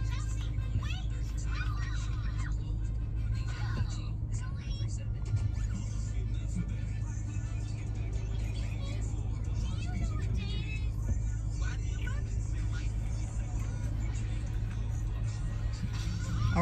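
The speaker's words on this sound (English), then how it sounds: "The traffic is crazy. Crazy over here." Heavy road traffic hums and rumbles steadily from inside a moving car, with passing vehicles and occasional engine surges in a continuous low drone, with no talk.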